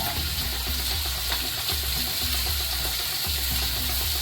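Oysters frying in a pan on a bed of ginger, garlic and green chili, giving a steady close hiss and sizzle with low bubbling underneath, continuous throughout.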